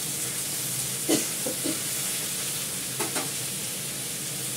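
Oil sizzles steadily in a pan on a home stove, with a few sharp spatula scrapes and stirring knocks standing out near the start and again toward the end; no one speaks.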